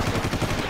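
Rapid automatic gunfire in the Far Cry shooter during a beach assault, a quick burst of closely spaced shots repeating in an even rhythm, loud and close, with no talking.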